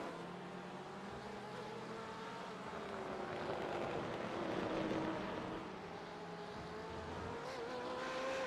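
A race car in a sim racing game at Sebring International drones steadily at a distance, its engine pitch rising and falling in smooth sweeps with no voices over it.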